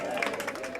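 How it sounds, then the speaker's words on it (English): Crowd of staff cheering and clapping as Queen Elizabeth II is led through the BBC radio newsroom at Broadcasting House, a steady close burst of voices and applause lasting under a second. "a cheer for the Queen as she's led through the radio newsroom"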